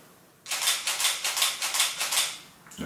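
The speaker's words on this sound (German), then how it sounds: "Ihr hört es aber auch schon zum Beispiel an diesem Klick, Klick, Klick." A camera shutter firing in burst mode: a quick, even run of about ten crisp mechanical clicks over two seconds, close and clear with no talking.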